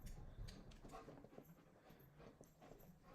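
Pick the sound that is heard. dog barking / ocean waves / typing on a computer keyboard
dog barking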